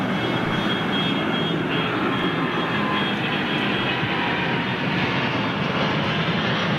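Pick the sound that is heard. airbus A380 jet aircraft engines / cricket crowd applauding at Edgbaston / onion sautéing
airbus A380 jet aircraft engines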